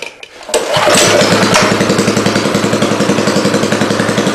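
Small gas engine on a pull-rope start catches after a brief tug and settles into a loud, rapid, steady putter close by, with no voices.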